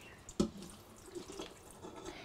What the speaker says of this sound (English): And we just put like a cup of water.